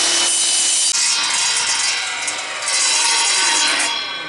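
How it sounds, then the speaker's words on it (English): A hand saw rasps steadily through the edge of a small wood block, cutting it down to a 1 by 1 inch square; the bright, gritty sawing is close and continuous with no talking. "Now I'm going to run it back through and cut this little edge off"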